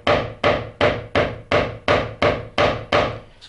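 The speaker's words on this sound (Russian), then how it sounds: "Берем молоток и пошло дело." A hammer pounds a piece of leather laid on a wooden block, with nine steady, evenly spaced heavy blows struck close by and no voices.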